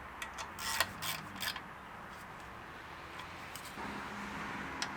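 A ratchet torques down bolts on a damaged 2014 Chevy Cruze engine, a cluster of quick close clicks early on followed by quieter scattered ticks and low background noise.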